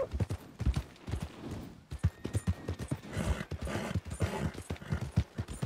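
A horse walking in Red Dead Redemption 2 with steady, close hooves clopping in an even rhythm and a light patter of rain behind.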